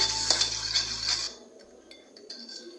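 A spoon stirs a baking soda and lemon mixture in a small dish, giving rapid scraping clinks and rattles up close for about a second before it drops to a few faint, scattered taps.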